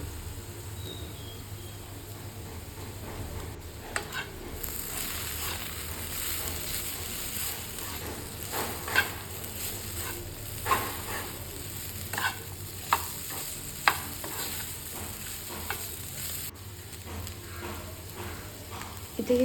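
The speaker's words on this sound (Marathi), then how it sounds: "ही सगळ्या साईडने चांगली हलवून घ्यायची आहे" Masala okra (bhendi) being stirred in a pan, with soft irregular scraping and clicking strokes over a low steady sizzle, moderately close and fairly quiet, with no talking.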